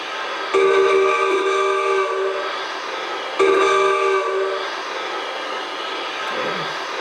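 Steam locomotive sounds from a DCC sound decoder in a Bachmann On30 2-6-0 model, played through computer speakers. Two loud, sustained whistle blasts sound, each lasting over a second, with a quieter mechanical background between them.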